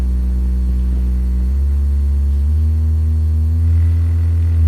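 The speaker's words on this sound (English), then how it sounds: "this is actually what the sine wave on its own kind of sounds like" A synthesizer VCO plays a plain sine wave, a low, steady, humming tone that shifts pitch slightly partway through and holds on alone without voices.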